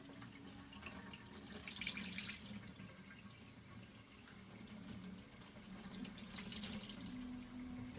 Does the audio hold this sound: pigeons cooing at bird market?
no